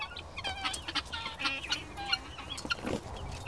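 Several chickens cluck and chatter close by in a coop, a busy overlapping run of short calls with scattered higher squawks and no talking.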